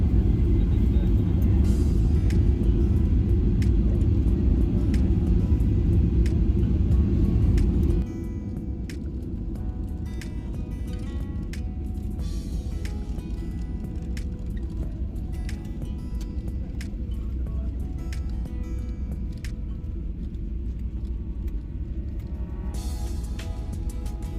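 Airplane cabin noise as a flight from Dubai descends toward Delhi airport: a loud, steady, deep rumble that drops noticeably in level after several seconds and keeps droning, with a voice speaking over it.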